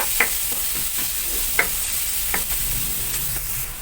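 Chopped garlic sizzles steadily in a pan for a tuna pasta sauce, with a constant hiss and a few sharp scrapes and taps of a utensil stirring it.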